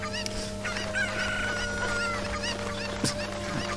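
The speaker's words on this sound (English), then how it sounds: "nobody in this village is bothered that I'm just here harassing all the chickens" White chickens cluck and squawk in a village in the video game Zelda Ocarina of Time, several overlapping calls over a steady game background tone, with no talking.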